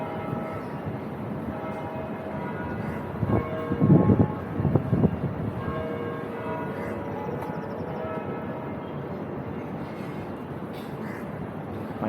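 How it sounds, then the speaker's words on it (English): Church bells ring near Elgin Bridge on a river walk, a brief cluster of loud rhythmic peals rising over steady outdoor city ambience, then fading back into the background hum. "nice bells"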